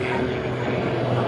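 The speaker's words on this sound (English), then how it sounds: "rolling the airplane in a very gentle," MX2 aerobatic airplane performing a gentle barrel roll at the Boundary Bay Airshow, a steady continuous engine and propeller drone heard from a distance with a broad, even roar throughout.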